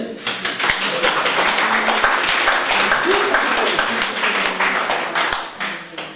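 Indoor audience applause for author Emmanuelle Ménard, sustained, even clapping from many hands at close range, lasting about six seconds.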